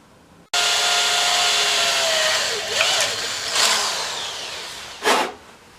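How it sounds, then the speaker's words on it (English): A power drill starts abruptly and runs steadily at high speed, drilling a hole in a carbon fiber bracket cover, its pitch sagging and rising as it bites, ending in a brief louder whine. "I'm going to drill 1 hole from this side"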